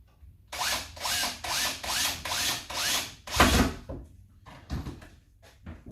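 Power drill driving Spax screws into a wooden squirrel feeder, six close bursts in a steady rhythm, the motor whirring and ratcheting against the wood before a few fainter clicks.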